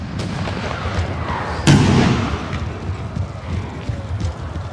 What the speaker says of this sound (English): Good hits by my Russian Pashaya artillery.